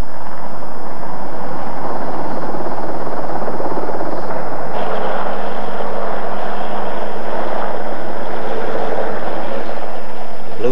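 A military helicopter in the Falklands war ferries troops to forward positions, its loud, steady rotor and engine drone filling the whole stretch and thickening slightly partway through.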